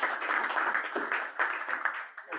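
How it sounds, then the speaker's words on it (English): A round of applause at a food web planning meeting, many hands clapping closely in a steady, moderately loud burst for a couple of seconds. "another round of applause for Carol"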